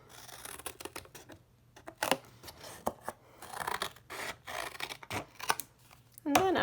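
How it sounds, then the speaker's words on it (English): Scissors cut out a paper booklet page, giving a run of crisp, close snips and paper rustles at an uneven rhythm, with short pauses between cuts. "So I'm going to cut this out."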